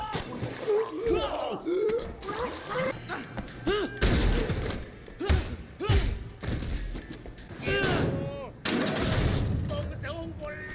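Video game gunfight with rapid shots, thuds and impacts popping in quick bursts, some slowed and stretched, mixed with someone narrating over the action.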